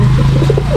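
A young racing pigeon gives a brief, close, throaty coo over a steady low hum.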